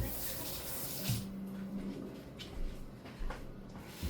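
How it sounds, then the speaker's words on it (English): A kitchen tap runs steadily while a knife is rinsed under the water, with soft splashing and a few brief clatters as the blade moves, close by and continuous throughout. "Let me wash my knife."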